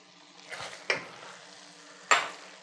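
Pumpkin is stirred into a sage risotto in a pan, with soft scraping and a quiet sizzle broken by three sharp utensil knocks against the pan.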